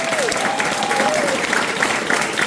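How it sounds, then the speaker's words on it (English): A room full of guests at an Eagle Scout ceremony breaks into sustained, even applause throughout, with faint voices mixed in beneath the clapping. "Everyone, please give these people a round of applause."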